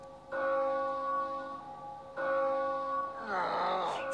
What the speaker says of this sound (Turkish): Evet, ziller çalıyor.